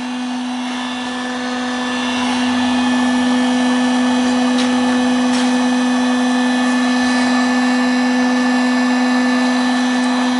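A homemade heating box driven by a hair dryer runs with a steady, loud whirring drone and a fixed motor whine that brightens slightly after a couple of seconds, with no talk over it.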